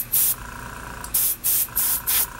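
Short bursts of an airbrush spray craft acrylic paint onto a Baldwin Motion Camaro model, five or so close hissing pulses separated by brief pauses, alone with no voices.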